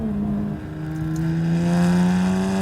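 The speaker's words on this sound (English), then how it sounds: "it's almost like the turbos and the blow-off valves are kind of competing with the exhaust, like simultaneously" A BMW 135i with a tuned N54 twin-turbo engine drones loudly under steady throttle, its exhaust note rising gradually in pitch at close range with a brief dip partway through.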